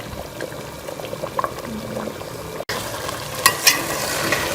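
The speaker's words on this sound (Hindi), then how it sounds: "इसको हम पानी खुश्क होने तक पका लेंगे।" Matar pulao of rice and peas cooking in water in a pot, a soft bubbling simmer with light crackles and a few brighter splashy bursts late on.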